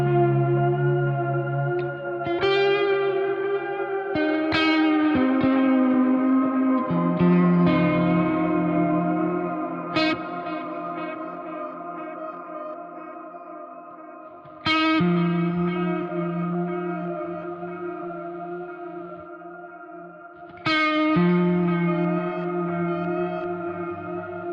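Electric guitar played through an amp modeller preset with delay, echo and cross-feedback, picking chords and melodic lines that ring out with trailing repeats and a spacious reverberant wash, a fresh strum at steady intervals, steady and fairly loud with no talking.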